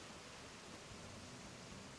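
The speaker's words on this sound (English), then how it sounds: "Got ocean sounds and waterfall sounds." Steady ambient ocean surf and waterfall rush on an island in the Animal Crossing video game, a soft continuous hiss with low rumble and no speech.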